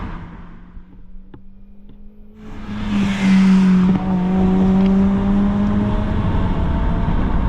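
A 2004 Toyota Celica GT with minor bolt-on modifications revs up, its engine note climbing from a steady idle into a louder sustained rev that holds for several seconds.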